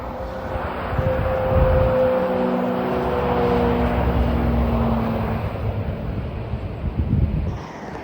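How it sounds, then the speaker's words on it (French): A Ferrari 355, Ford GT40 and Ferrari 458 Spider pass on a motorway near Le Mans, a rising and fading engine drone with tonal whines, heard from inside a moving car amid wind rush. "il y avait 355 GT40 et 458 Spider"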